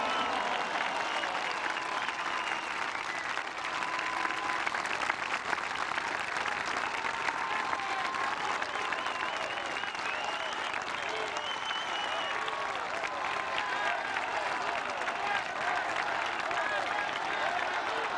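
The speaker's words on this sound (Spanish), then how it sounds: "les pido que les brindemos un fuerte aplauso a las Fuerzas Armadas de" Sustained applause from a large audience at a Mexican government ceremony honoring the country's Armed Forces, a dense, even roar of many hands clapping that continues steadily throughout.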